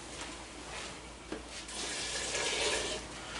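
Water runs from a tap to measure two cups for a turkey brine, a steady rushing splash that swells louder midway and then eases off.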